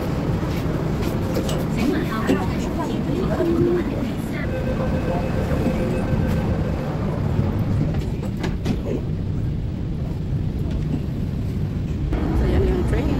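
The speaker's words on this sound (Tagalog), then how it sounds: "So yan yung train." A train rumbles steadily into a station, loud and continuous, with squeals and clanks over the rolling noise and people talking nearby.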